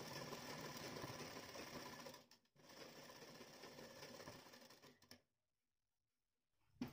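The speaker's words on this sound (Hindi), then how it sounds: "अब देखिए पट्टी के बाहर वाली साइड से इस तरह से इस पर सिलाई लगा देंगे।" Sewing machine stitching along the outer side of a strip on a deep-neck blouse, running in a steady fast whir for about two seconds, pausing briefly, running again, then stopping to near silence.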